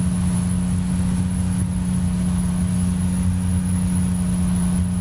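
Heavy truck engine in American Truck Simulator on a Dalton winter haul, a loud constant droning hum with a strong steady low tone and a thin high whine, running alone without change.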